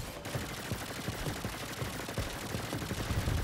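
Player's gun firing in the Saints Row game, rapid repeated gunshots in irregular bursts over a dense background hiss, mid-distance and moderately loud for the full stretch.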